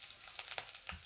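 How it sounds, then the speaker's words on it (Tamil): Green chillies hissing and crackling in hot oil in a pan for capsicum lemon rice, a steady bright sizzle with a few sharper pops, close and alone. "பச்சை மிளகாய் போடுறேன்"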